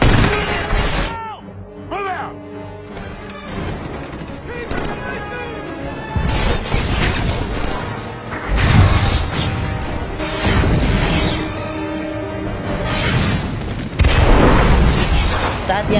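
Heavy booms and blasts crash out repeatedly amid rattling gunfire and dramatic music, a loud, chaotic battle scene from the 2011 film Captain America: The First Avenger, with shouted voices mixed in.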